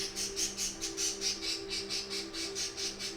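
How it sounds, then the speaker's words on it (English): A blue parakeet chatters in a rapid, steady series of shrill squawks, about a dozen pulses close by and fairly loud, with a faint background hum and no talking. "It's a blue parakeet."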